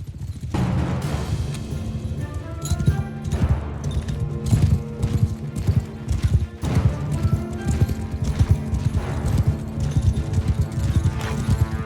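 Rapid clip-clop of horse hooves with scattered impact sounds and a whinny, busy and loud throughout, during a battle in the video game Mount & Blade II: Bannerlord.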